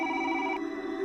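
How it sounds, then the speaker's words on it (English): A phone sounds a short electronic alert for an incoming message, a bright tonal ring held steadily that shifts pitch partway through, loud and alone. "My phone buzzed one last time."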